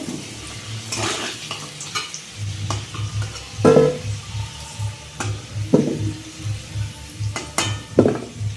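Fried potatoes lifted out of a hot pan with oil still sizzling, a low bubbling hiss under repeated scrapes and knocks of a utensil against the pan, close-up and without speech.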